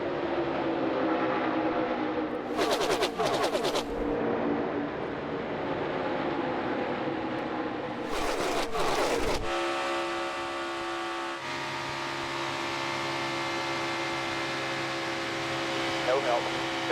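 NASCAR Cup Series stock cars racing in the Gander RV Duel at Daytona make a continuous engine roar with loud bursts as packs of cars sweep past, and a radio voice breaks in over it.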